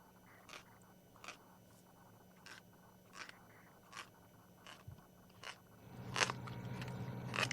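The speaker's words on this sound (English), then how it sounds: "It's this hyena munching away on the giraffe rug." Faint, regular crunching bites repeat about every three-quarters of a second as a hyena chews a giraffe carcass in the bush, then a louder stretch of gnawing and tearing near the end.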